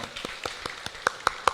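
A church congregation claps in a quick, even rhythm, with about eight sharp claps that grow slightly louder toward the end.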